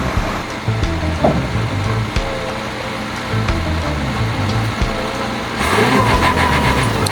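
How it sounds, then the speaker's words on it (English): A dump truck's engine rumbles steadily while the tipper bed works, a loud continuous mechanical drone with a few clanks and a rise in hiss near the end. "the truck bed lowers back into place, ready for the next haul"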